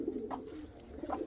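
A breeding pigeon coos, close and moderately loud. Two soft, throaty coo phrases are heard, one near the start and one near the end, with quiet ambient noise between them.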